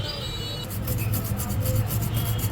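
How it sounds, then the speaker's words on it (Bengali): Wire brush scrubbing hard against a metal mobile phone reballing plate, a steady close rasping rub that grows denser after the first half second and continues without pause. "এই তারের পাশে দিয়ে আমি এটা জোরে মানে ঘষা দেবো দেখতে পাচ্ছেন আমি ঘষা দিচ্ছি"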